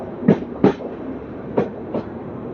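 Dadar Jodhpur Express passenger train running on rails in India, heard as a few distinct clickety-clack wheel thumps over rail joints in an uneven rhythm over a steady low rolling rumble, close by.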